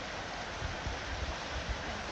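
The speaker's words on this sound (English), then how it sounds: "What is that, a creek?" A creek flows in a quiet, continuous wash of water, faint and steady with small soft surges and no talking.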